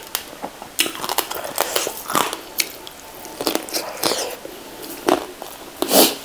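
Someone eats khao pun rice noodles in fermented fish sauce with pork sausage and vegetables, making close bites, crunches and slurps in irregular bursts, with a cough-like sound near the end.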